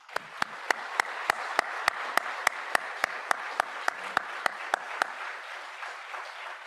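Audience applause welcoming a keynote speaker at an event, a steady crowd clapping with sharp, regular louder claps standing out over roughly five seconds before fading slightly, with no talking.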